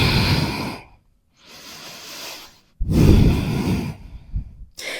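Long audible breaths during a yoga flow, with two strong, airy exhales and a softer one between pauses of silence, close and fairly loud.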